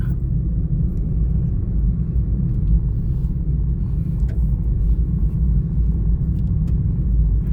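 Steady road rumble inside a car driving to the shops, a constant low engine and tire drone with no other sounds standing out.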